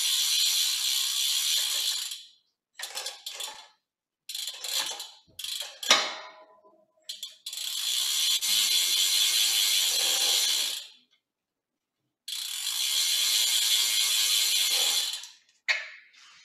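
Bicycle wheel spun by hand while being wiped with a degreaser-soaked rag, giving long bursts of steady ratcheting freehub buzz broken by short pauses and scattered clicks, close and clear with no talking.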